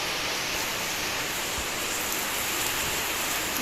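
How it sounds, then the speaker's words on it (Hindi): Heavy rain pouring down steadily during a Teej festival day at home, a dense, even hiss of downpour with no breaks, close and loud throughout. "आप देख लो कितनी जोरों की बारिश हो गई है,"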